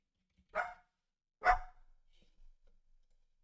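A dog charging at crows on a lawn lets out two sharp barks about a second apart, with faint thumps and rustling after them in an otherwise quiet space.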